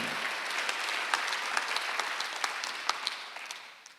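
A church congregation at a Sunday worship service claps together in a steady, moderately distant round of applause, with no talking over it.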